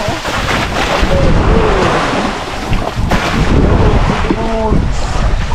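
Strong sea waves churn and slap around a fishing boat out at sea, with a steady roar of water and wind buffeting the microphone, while voices call out faintly beneath the noise.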